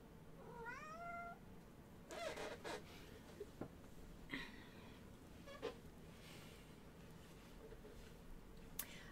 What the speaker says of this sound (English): I have a surprise cat. He was wandering around on the floor crying.